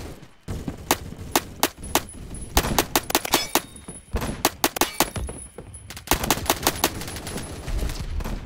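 Rapid semi-automatic DMR fire in the shooter game Phantom Forces: close, sharp cracks in quick irregular bursts with short pauses between strings, no talking.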